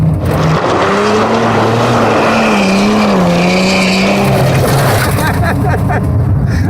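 BMW E30 325i racing hard on an unpaved racetrack, its engine roaring loud and steady close by while the revs rise and fall and the tires skid, with no talk.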